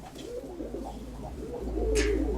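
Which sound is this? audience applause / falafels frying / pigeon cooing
pigeon cooing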